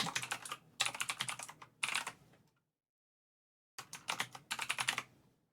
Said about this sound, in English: I've got a really clicky keyboard.